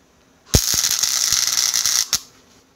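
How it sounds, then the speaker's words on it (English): An angle grinder grinding down galvanized threaded rod for a DIY camera boom, a sustained bright hiss with sharp clicks at the start and end, lasting about one and a half seconds. "I'm going to grind it down like my mama told me to"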